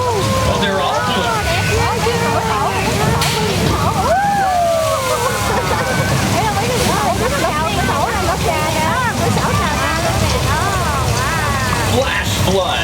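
An artificial flash flood on a Hollywood studio tour, with a thousand gallons of water dumped down a hill, makes a continuous loud rushing and sloshing roar while riders shout and talk over it.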